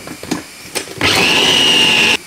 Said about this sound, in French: je vais mixer une première fois pour voir ce que ça donne